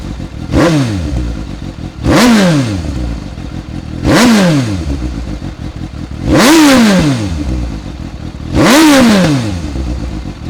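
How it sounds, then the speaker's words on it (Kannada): A Suzuki GSX-S750 superbike with its stock exhaust and a BMC air filter is revved five times in an even rhythm, each loud, close blip rising sharply and falling back to a rumbling idle. "ಇವಾಗ ಸ್ಟಾಕ್ ಎಕ್ಸಾಸ್ಟ್ ಅಲ್ಲಿ ಸೌಂಡ್ ಹೇಗೆ ಬರುತ್ತೆ ಅಂತ ನಾನು ತೋರಿಸ್ತೀನಿ."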